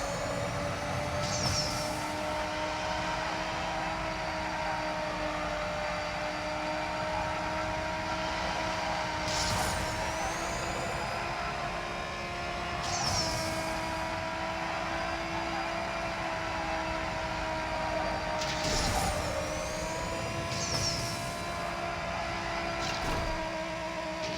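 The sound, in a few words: jet aircraft flying over in the racing game NFS No Limits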